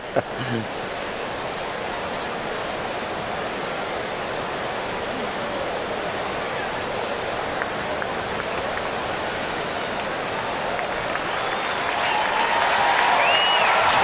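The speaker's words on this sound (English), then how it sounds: "the fans cheer as Millwood says he wants to go up on the mound and keep going" Baseball fans at a Royals–Rangers game cheer and applaud in the stadium, a broad roar of crowd noise that holds steady and swells louder toward the end.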